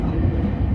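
The Mahoroba limited express, a three-car train on the Yamatoji Line, gives a brief, loud, close rumble of motors and running gear as it picks up speed. No voices are heard.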